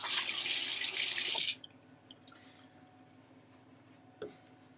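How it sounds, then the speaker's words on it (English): A kitchen tap runs loudly as hands are washed at the sink while making pork and apple burgers. The water pours for about a second and a half, then shuts off, leaving quiet room sound and a couple of small knocks. "Let's wash my hands again."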